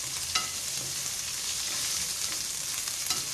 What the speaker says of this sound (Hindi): मिक्स करते ही रहेंगे हम इसको।